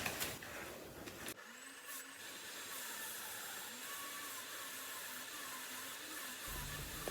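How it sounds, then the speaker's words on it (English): A hoover nozzle sucks away sanding dust at a woodturning lathe, giving a steady, fairly quiet airy hiss with a faint whine, preceded by a brief rougher scraping burst. "The hoover nozzle's great for sucking that sanding dust away from me."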